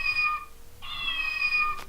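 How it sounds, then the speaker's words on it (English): A cat-shaped clock gives two electronic meows, each a bright tonal call, separated by a short pause and followed by a faint tick-like click, heard close with no talking. "Cat clock."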